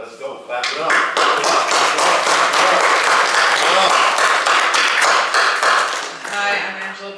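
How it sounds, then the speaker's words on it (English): An indoor audience gives a dense burst of applause lasting several seconds, close and loud, and it thins out toward the end. Voices can be heard faintly under the clapping. "Clap it up."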